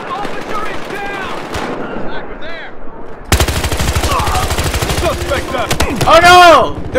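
Rapid machine gun fire in the video game Battlefield Hardline multiplayer, a loud sustained burst of close, evenly spaced shots that cuts in midway and ends with a ricocheting whine, over earlier game noise.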